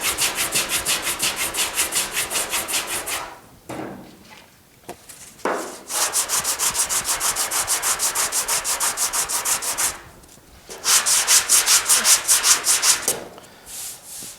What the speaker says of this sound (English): but let's keep sanding.